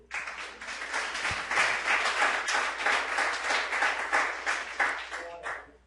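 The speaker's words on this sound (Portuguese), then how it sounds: "Aplauda o Senhor." A church congregation claps for the Lord during a sermon, dense rhythmic applause that swells and pulses for several seconds before stopping abruptly, close and loud.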